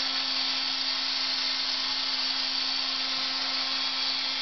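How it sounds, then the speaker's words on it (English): White wine being stirred vigorously with a drill-driven stirrer, a steady whirring hum and wash of churning liquid, continuous and close with no talk. "Just stir vigorously for 2 minutes."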